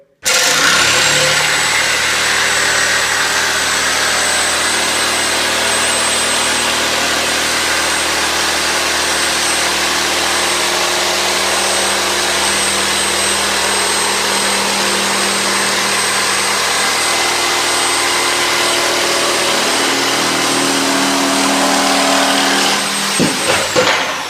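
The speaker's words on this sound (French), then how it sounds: "Il y a une semaine, j'avais jamais touché une scie sauteuse." A jigsaw cuts laminate floating floor boards, its motor whining steadily and loudly for about twenty seconds without a break before winding down at the end, alone with no talking.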